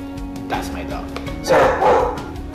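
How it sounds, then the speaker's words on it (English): A pet dog barks indoors, a few yips rising over a steady background hum, with the loudest bursts near the end, close by and fairly loud. "that's my dog."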